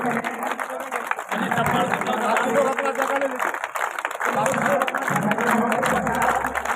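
A crowd applauds loudly and steadily to welcome an international guest from Nepal at a public gathering, the clapping a dense, continuous wash under an amplified voice speaking over it.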